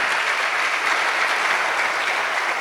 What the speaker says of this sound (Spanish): Dele fuerte los aplausos al Señor